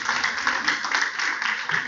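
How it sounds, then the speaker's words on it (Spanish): A church congregation applauding, with steady, dense clapping that holds at an even level from start to finish and carries no clear speech. "Dele un aplauso al Señor"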